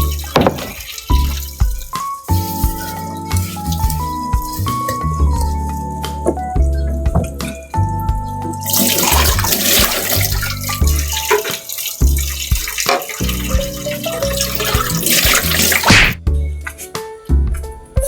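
Running water splashes steadily at a kitchen sink during dishwashing, with clattering and knocking of dishes, some tonal squeaks, and a louder gushing stretch midway.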